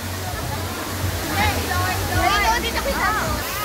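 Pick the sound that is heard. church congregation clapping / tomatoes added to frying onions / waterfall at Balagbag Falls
waterfall at Balagbag Falls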